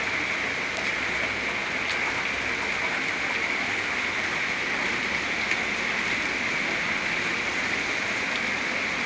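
Steady rain falling on a home garden, a dense even hiss that holds at a constant level throughout with no pauses or voices.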